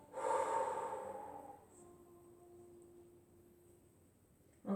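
A long, breathy exhale during a postural yoga exercise, close and soft, fading into quiet with a faint steady tone, then a brief new breath at the very end.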